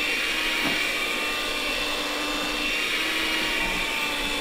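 A cheap electric hand mixer whirs steadily while mixing homemade taxidermy glue. The motor hum stays even and moderately loud throughout, with a faint tap near the start.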